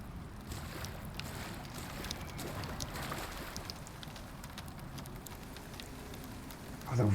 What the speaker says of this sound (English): the rain falling down on the wood